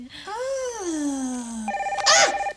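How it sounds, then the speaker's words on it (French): A telephone rings with a bright electronic warble near the end, preceded by a long sliding tonal whistle-like sound that may be a voice; the ring is brief and fairly loud. "Ça, c'est le téléphone."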